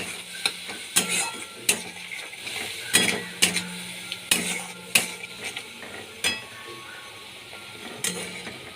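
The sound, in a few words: spices sautéing in a pan for cauliflower potato curry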